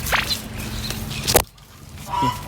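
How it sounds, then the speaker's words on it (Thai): A couple of brief clucking chicken calls nearby, with a shuffle or footstep and a short break of near silence before a final call. "ผมว่ามันมีไก่นะครับ"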